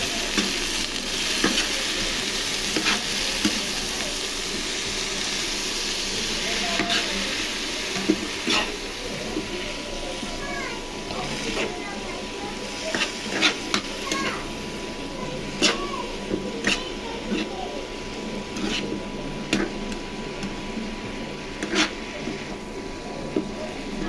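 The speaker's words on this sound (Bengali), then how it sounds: "নেড়ে দিব" Malabar spinach curry with coriander leaves sizzles in a pan while a spoon stirs it, producing frequent scraping clicks and knocks over a steady frying hiss.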